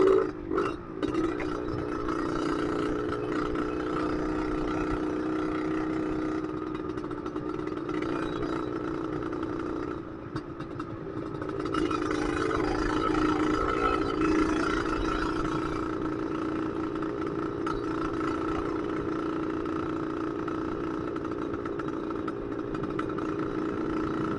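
A two-stroke motorcycle engine, a Yamaha RXZ, runs continuously with a rough, buzzing idle, swelling slightly midway, steady and close throughout with no talking.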